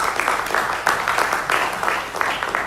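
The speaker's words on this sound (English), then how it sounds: "Can we give another round of applause?" A conference crowd applauding, dense clapping that swells and dips in waves over a few seconds, moderately loud and fairly close.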